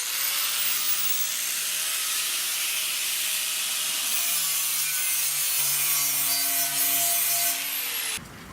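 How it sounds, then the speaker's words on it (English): Metal rock slider edge being ground down with a grinder, a steady loud broadband whine with a shifting tone running continuously for about eight seconds before cutting off abruptly. "and grind this other edge down."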